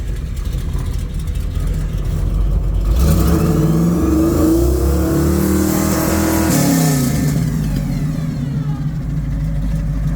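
A 1976 Jeep CJ-7 engine cranks and catches, then runs steadily at a fast idle with a brief rev, close by and loud throughout.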